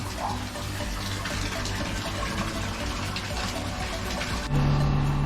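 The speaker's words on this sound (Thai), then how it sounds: "อันนี้เราบอกให้ลูกค้าช่วยเติมน้ำเข้าบ่อให้ละส่วนหนึ่งเดี๋ยวเราจะได้เทสน้ำกัน" Water pours steadily into a fish pond at a Bangkok home during a filter system renovation, a loud, continuous rushing gush close by, with a deeper pump-like hum coming in near the end.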